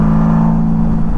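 A 1999 Honda Valkyrie F6C motorcycle engine rumbles loud and close, holding a steady, smooth drone at idle or a light rev.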